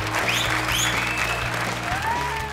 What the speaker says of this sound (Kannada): ರೆಡಿ ಚಪ್ಪಾಳೆ.